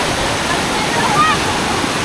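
A river in flood at Panchanadi in Konkan during heavy rain, with water rushing in a loud, steady, close roar and no break.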